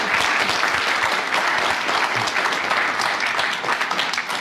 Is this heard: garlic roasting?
no